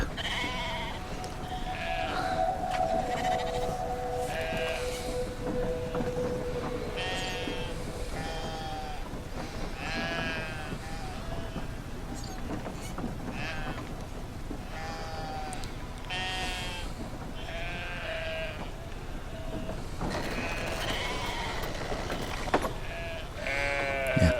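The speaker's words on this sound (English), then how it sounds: "pick up a sheep and take it to where we made a black rabbit" Sheep in a video game bleat repeatedly in wavering calls over a constant hiss of background noise, one call after another for a long stretch.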